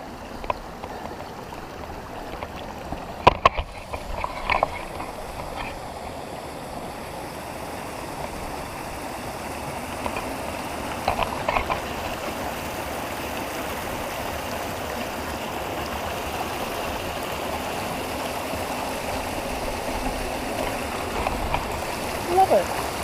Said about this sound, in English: We've got another river crossing coming up.